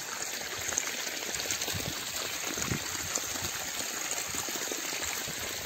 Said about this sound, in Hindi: बोरवेल से पानी दिया जा रहा है।